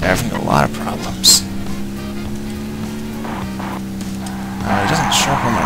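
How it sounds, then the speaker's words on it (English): Brakes of a car in the Interstate '76 video game, with a low, steady engine drone underneath, occasional bursts of noisy hiss and one sharp high squeal near the start, while someone talks over the game audio. "Oh, you can hear my brakes. They're having a lot of problems."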